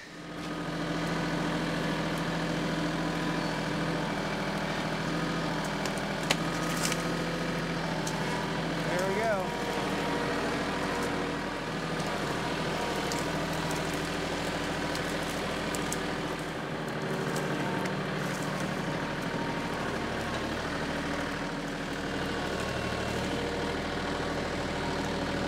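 A tractor engine idles steadily throughout, a low, continuous rumble with a few faint clanks.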